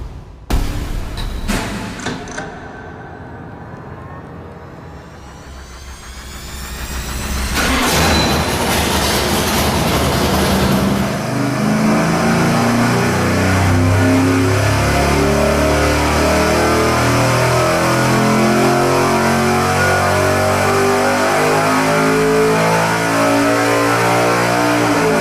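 A 400 engine with a flat tappet cam runs on a dyno, starting with a few rough bursts, then climbing into a loud, sustained high-rpm buzzing roar that holds steady.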